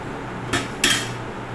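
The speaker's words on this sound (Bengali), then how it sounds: "তো এটা ভালো করে মিশিয়ে নিয়েছি।" A spoon mixing cake batter in a bowl clinks twice against the side, two short close knocks over a quiet kitchen background.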